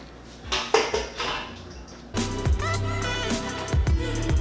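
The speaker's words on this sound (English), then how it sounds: "Just stir it till it blends all together with all the sauce." Pineapple fried rice with cashews being stirred in a pan, the spoon scraping and clinking against the metal in uneven bursts, quieter at first and then louder and busier, with no voices.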